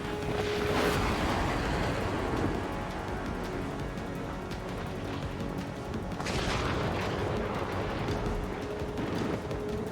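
Heavy booms and rattling gunfire from missile hits and explosions in the Ace Combat flight game, loud and continuous, with bursts near the start and again later.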